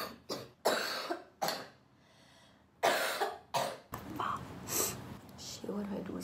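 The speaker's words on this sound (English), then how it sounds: "I'm pretty sure I'm like coughing blood out right now from coughing too much." Several harsh, close coughs come in quick bursts from someone with a sore throat from coughing too much, with gasping breaths between fits and some talk at the end.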